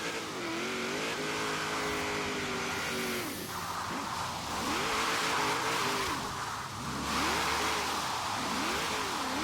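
A Holden Torana A9X on big rear tires roars through Forza Horizon 3, its engine loud and continuous as it revs up and down through the gears, with repeated rising and falling pitch sweeps.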